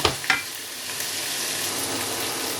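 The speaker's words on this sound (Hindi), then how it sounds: "साथ ही टमाटर भी डालेंगे। और इनको मज़ीद भूनेंगे जब तक हमारे टमाटर ना गल जाए।" Tomatoes and onions fry in a pan for egg bhurji, giving a steady close sizzle with a couple of sharp utensil scrapes near the start and no voices.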